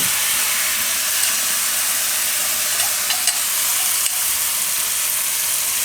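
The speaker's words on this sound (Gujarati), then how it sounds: "તો આ દાળ હવે આપણે આમાં કોબીમાં ભેગી નાખી દઈએ" Washed moong dal tipped into cooking cabbage and mixed, under a loud, continuous sizzling hiss with only faint stirring taps.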